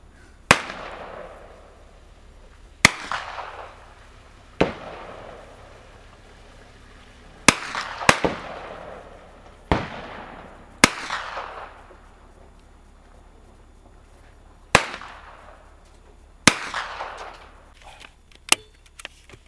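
Gunshots ring out one at a time at an outdoor shooting range, about eight loud, sharp reports spaced a few seconds apart, each trailing off in a ringing decay.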